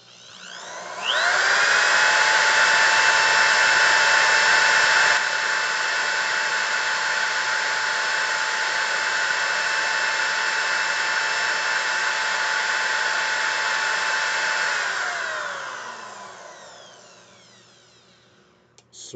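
A WireOX swivel system spins at about 2,800 RPM, a loud, smooth motor whine that rises quickly, holds steady for a long stretch, then winds down and fades near the end.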